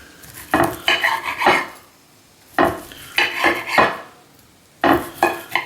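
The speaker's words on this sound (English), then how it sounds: "here's how I cut my ribs" A knife slices through grilled spare ribs, cut between the bones on a board, giving three clusters of short scraping and clattering strokes separated by brief pauses, close and moderately loud.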